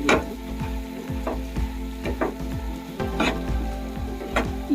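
Brinjal curry with masala is stirred as it fries in a pan. A soft sizzle runs underneath while a spatula scrapes in a regular rhythm, several strokes a second, close by and alone.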